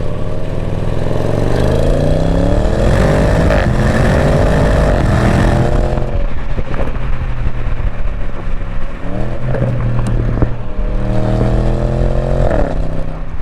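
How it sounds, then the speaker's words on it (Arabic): An Audi S8 V8 engine in sport mode revs and accelerates loudly through several gear changes, rising and falling in pitch close to the microphone, with no voices. "شيء اخر بالوضعية الرياضية هو صوتها للسيارة، صوتها بيرتفع"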